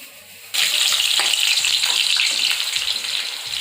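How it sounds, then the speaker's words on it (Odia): Onions frying in hot oil for chicken biryani: a loud, steady sizzle bursts in suddenly and crackles on without pause, close up, with no voices. "ଏବେ ତେଲଟା ଗରମ କରି ମୁଁ ପିଆଜ ସବୁ ଫ୍ରାଏ କରିକି ରଖିବି"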